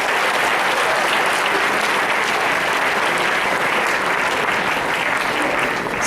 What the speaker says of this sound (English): please a big applause for him